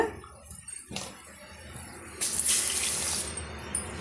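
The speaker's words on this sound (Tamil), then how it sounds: "இந்த ஸ்டேஜில் மிக்ஸி சாரை அலசிட்டு உங்களுக்கு எந்த அளவுக்கு கிரேவி வேணுமோ அந்த அளவுக்கு தண்ணியை ஆட் பண்ணிக்கோங்க" Water rinsed from a mixer jar is poured into a simmering egg masala gravy, a splashing pour that swells into a steady stream partway through, with no talking.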